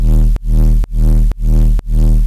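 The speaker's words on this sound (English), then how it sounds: "Like my sub under here sounds like this." Deep sub bass synth patch built in Vital, pulsing on quarter notes: five loud sustained hums with a brief dip between each, alone with no voices.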